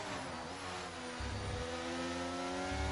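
F1 race cars, a Williams and a McLaren with Mercedes power, battle in a racing video game at Brazil, a steady high engine whine climbing in pitch as they accelerate, with no talk.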